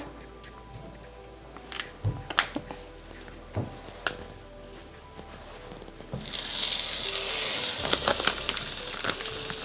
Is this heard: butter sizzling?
yes